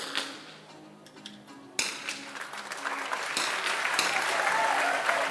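At a rifle shooting match, a quiet hall with a few scattered claps erupts into sustained applause from the spectators, building and staying loud to the end.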